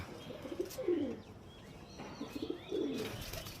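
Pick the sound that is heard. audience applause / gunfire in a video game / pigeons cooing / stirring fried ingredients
pigeons cooing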